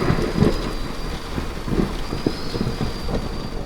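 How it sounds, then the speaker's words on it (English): Heavy rain pours down steadily while thunder rumbles, with scattered sharp drop impacts on a surface and a continuous wash of rainfall, loud and close, no voices. "The rain poured down from a darkened sky"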